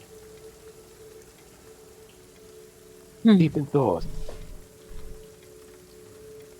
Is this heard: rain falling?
yes